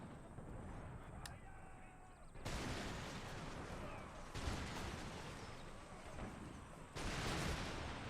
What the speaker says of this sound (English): The enemy are now finally firing back at us.